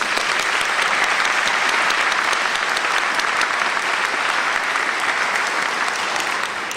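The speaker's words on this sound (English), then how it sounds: "May we give them a round of applause." Graduation audience at a college prep school ceremony applauding, a dense, steady wash of clapping that holds at full strength throughout and eases only slightly at the very end.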